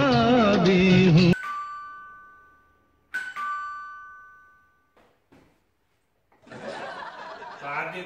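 A two-tone doorbell chime rings twice, each ding-dong ringing out and fading, with laughter and chatter before and after.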